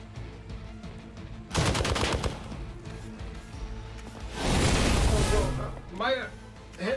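Two loud bursts of rapid gunfire crackle in Marvel's Midnight Suns, each lasting about a second or so, with game sounds and a whooshing effect between them.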